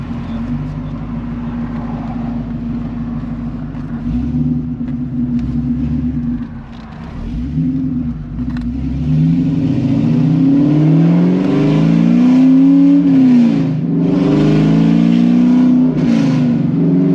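A C5 Corvette V8 with long tube headers and straight pipes idles with a deep rumble, then revs hard several times, the loud exhaust rising and falling in pitch as it accelerates.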